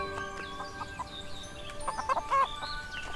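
Chickens in the farming game Everdream Valley cluck in short repeated clucks and brief squawks, near and clear over faint game background with no talking.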